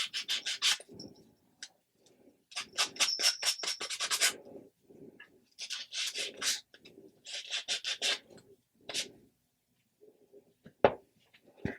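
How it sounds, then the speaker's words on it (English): Light sanding on paper over mixed media character blocks, repeated rapid back-and-forth scratchy strokes in short bursts with pauses, close and crisp, followed by a single knock. "You're just lightly sanding."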